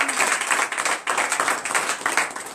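A church congregation at a night deliverance service bursts into dense, rapid hand clapping, loud and close, surging in a few waves.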